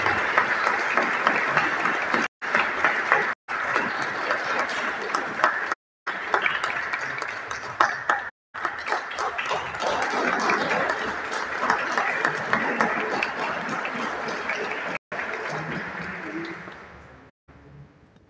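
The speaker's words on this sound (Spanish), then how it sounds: "Un aplauso para Donaldo." An audience at an art critics' award ceremony in Costa Rica breaks into sustained applause, dense clapping from a moderate distance that continues for several seconds before fading out toward the end.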